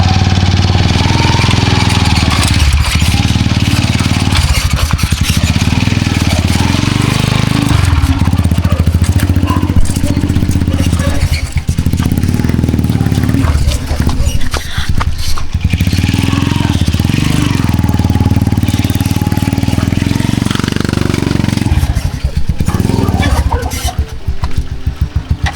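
A Rusi TMX motorcycle engine runs loud and close as riders push it up a steep slope, its mid-pitched drone surging and dipping in repeated revs over about twenty-five seconds.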